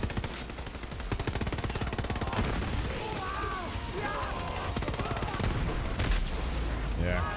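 Rapid automatic gunfire in the Borderlands 3 shooter game rattles almost continuously, with bursts, impacts and game effects layered over it and a voice speaking briefly underneath.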